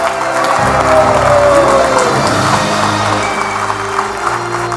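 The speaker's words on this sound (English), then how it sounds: "let us give our technical paper winner another round of applause" A loud, dense round of applause fills a conference hall for the technical paper winner at BreakFree'23, holding steady for several seconds without talk.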